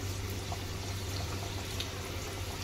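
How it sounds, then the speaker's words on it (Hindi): Namak pare, crisp salty flour snacks, frying in hot oil give a soft, steady, continuous sizzle that stays even and close throughout, with no talking. "अब मैं इसको करूंगी फ्राई"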